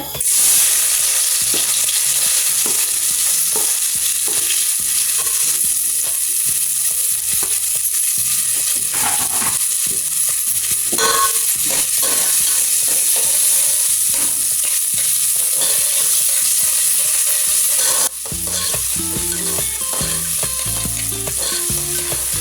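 Onions frying in hot oil in a pan while a Goan green chilli beef curry is being cooked, a loud steady sizzle with stirring scrapes throughout, no talking.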